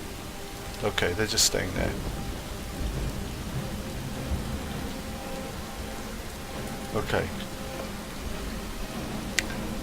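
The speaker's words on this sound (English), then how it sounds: "Okay, so it's raining." Steady rain falls in Skyrim, a constant wash of noise with a faint rumble, while someone speaks briefly over it.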